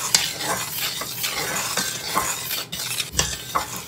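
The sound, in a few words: stirring flour and baking powder with chopsticks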